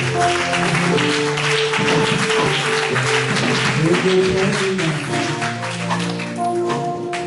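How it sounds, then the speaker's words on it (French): A church congregation at a Sunday worship service in Nantes applauds steadily and loudly throughout, with dense clapping over a sustained background of music or voices. "Acclamez le Seigneur"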